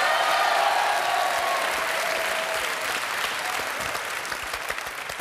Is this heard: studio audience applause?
yes